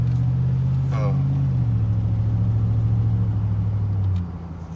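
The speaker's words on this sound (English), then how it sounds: "let's go ahead and take this truck for a spin around the block" A pickup truck engine hums steadily at a low pitch while driving along, then the drone drops off near the end.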